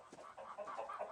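A chicken in the farming horror game Dread Fields gives a quick run of soft clucks, faint and close with nothing else around it.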